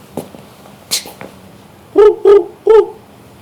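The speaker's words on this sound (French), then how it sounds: "Facile pour vous, c'est un oiseau." A bird call is played back at a live thesis talk event. After a few faint clicks, three loud, clear, tonal calls come in quick succession near the end, close and prominent, with no voices.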